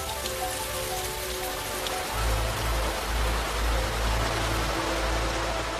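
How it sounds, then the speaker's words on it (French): Steady rain patters densely on a surface, a constant hiss of drops, with a low rumble swelling underneath partway through. "prêtes à tomber sous forme de pluie"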